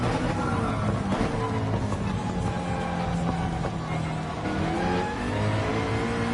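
A McLaren in Gran Turismo 7 revving hard through the gears, a loud continuous engine whine that climbs and drops repeatedly over several seconds, with no speech.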